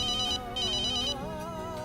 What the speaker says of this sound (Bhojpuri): माँ के फोन आवत बा।